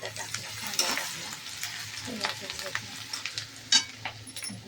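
Curry leaves and onion sizzle and crackle in hot oil, a close, steady frying hiss with stirring scrapes and a few sharper pops.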